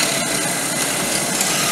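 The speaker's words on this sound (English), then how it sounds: "You can see it doesn't wobble and drills a nice square hole." A drill press fitted with a homemade mortising attachment of cherry and poplar cuts a square hole in wood, giving a continuous close, harsh grinding rasp with no voices.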